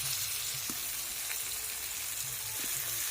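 Chicken pieces are dropped into hot oil in a pan and fry with a steady, close sizzle and a few soft stirring knocks, with no voices.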